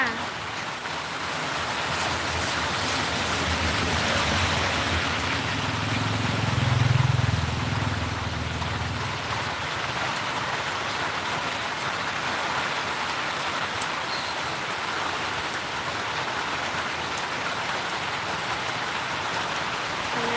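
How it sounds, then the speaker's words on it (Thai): Steady daytime rain falls continuously on surfaces in Phuket, a dense even hiss with a brief low rumble partway through, no voices. "ฝนตกค่ะ แต่ยังไม่แรงนะฝนยังไม่แรงค่ะ"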